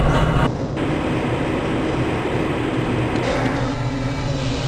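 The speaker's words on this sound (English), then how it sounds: "This train is inbound from the Area 8 topside dormitories to the Central Transit Hub in Area 9" A train rides along the rails in the video game Half-Life: Blue Shift, a continuous loud rumble and rattle of the moving carriage, steady and close.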